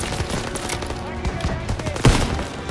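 Rapid gunfire and explosions in a World War II firefight in Call of Duty WWII, dense and continuous with one sharp louder blast near the end, amid battle noise.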